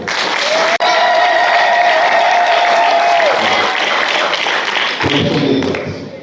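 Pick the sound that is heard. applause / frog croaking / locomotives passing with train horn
applause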